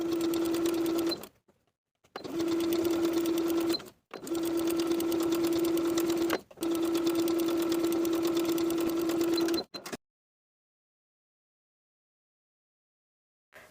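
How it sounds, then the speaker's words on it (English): A sewing machine understitches a knit T-shirt neckline facing in four steady, loud bursts of rapid stitching with short pauses between, then stops into silence. "sewing that facing to the seam allowance underneath all the way around, close to the original stitching line"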